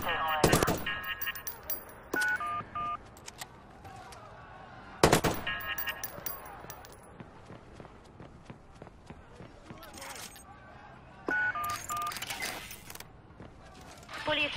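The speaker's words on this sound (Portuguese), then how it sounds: "ele está atirando" Gunfire in the Watch Dogs video game: scattered loud shots and short bursts crack out over several seconds, separated by quieter stretches with background voices.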